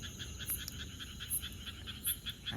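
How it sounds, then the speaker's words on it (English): Tree frogs croak in a steady, rapid series of short chirps, moderately distant, over a soft outdoor hiss with no talking. "the tree frogs started croaking"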